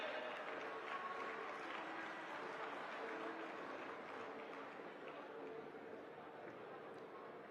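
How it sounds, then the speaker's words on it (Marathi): An audience at a Maharashtra political felicitation ceremony where a turban is placed on Chhagan Bhujbal claps loudly and continuously, a dense roar of applause that carries on through the whole stretch. "जोरदार टाळ्या झाल्या पाहिजेत."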